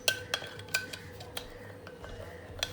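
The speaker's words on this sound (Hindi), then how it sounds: "अब इसको अच्छे से मिक्स कर लें।" A mutton leg marinade with olive oil is mixed in a bowl, giving irregular metallic clinks and taps of a utensil against the dish amid soft stirring, fairly close and quiet.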